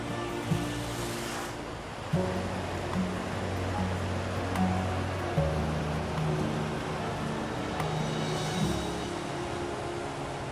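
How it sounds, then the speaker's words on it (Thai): River water flowing past a town in Houaphanh province, Laos, a steady broad rushing wash with a low hum and occasional bumps, heard on its own without talk. "แม่น้ำไหลผ่านนี่เนาะจะมีเสียงแม่น้ำเสียงน้ำไหลเนาะ"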